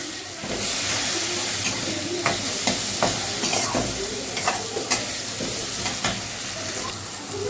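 Continuous sizzling from food frying with turmeric and salt, with repeated sharp scraping taps of a spatula stirring in a pan.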